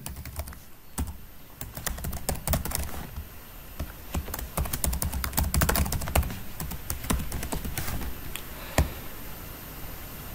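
A username is typed on a computer keyboard in quick, uneven bursts of crisp key clicks, close and fairly quiet, with short pauses between runs of keystrokes.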